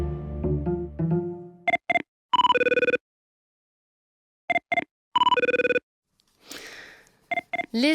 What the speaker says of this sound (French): auront reconnu la sonnerie du téléphone de la CTU, l'unité antiterroriste dans laquelle officie Jack Bauer, le héros de 24 heures chrono